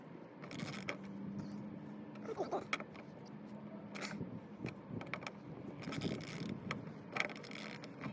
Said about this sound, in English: We're gonna start by removing the bolt at the bottom.